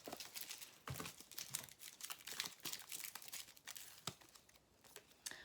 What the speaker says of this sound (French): je vais remettre une carte.